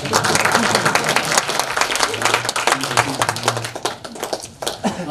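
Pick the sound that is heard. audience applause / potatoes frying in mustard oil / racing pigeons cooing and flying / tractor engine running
audience applause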